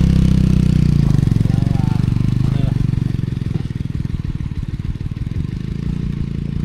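Motorcycle engine idling with a steady low rumble, loud and close throughout, its pulsing beat more distinct toward the end, with people talking briefly over it.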